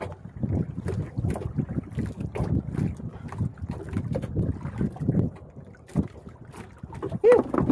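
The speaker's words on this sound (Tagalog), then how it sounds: "Yung ihip ng hangin ay malamig." Gusty wind buffets the microphone in uneven bursts, low and rumbling, with faint splashing movement in the background and no voices.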